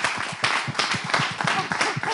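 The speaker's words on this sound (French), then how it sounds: "je vais vous demander d'applaudir vraiment très très fort" An audience at a hair braiding and beauty association event claps loudly in a steady, rhythmic beat of distinct hand claps, with a faint voice now and then.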